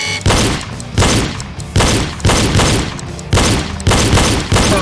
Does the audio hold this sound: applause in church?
no